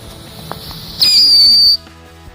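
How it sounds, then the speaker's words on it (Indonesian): A 'mercon ayam bertelur' firecracker going off, a loud shrill steady whistle lasting under a second that stops abruptly, preceded by faint scattered background noise. "ini yang selanjutnya kita nyalain mercon ayam bertelur nih"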